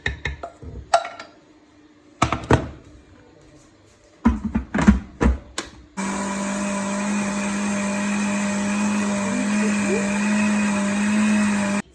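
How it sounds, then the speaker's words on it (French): An electric blender whirs steadily, loud and close, while it purées raspberries for homemade ice cream, after several seconds of kitchen clatter and knocks. "On va mixer les framboises"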